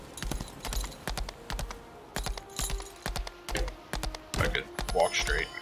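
Rhythmic clip-clop of a horse's hooves trotting along in the video game Lost Ark, steady repeated hoof strikes close by with someone talking over them.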